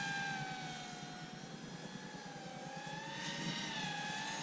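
A Freewing F-22 Raptor 90mm EDF radio-controlled jet flies overhead, its steady turbine-like whine holding for several seconds with slight pitch shifts as it passes, fairly distant and with no talk over it.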